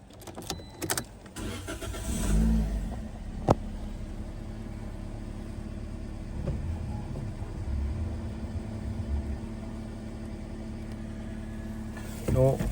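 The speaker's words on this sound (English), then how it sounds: "I'm going to start the car and have a look how is going on" A Toyota Yaris, also sold as the Vitz, starts up after a clutch replacement in light rain: a short cranking burst catches into a steady low idle rumble, with a few clunks and brief revs, close by.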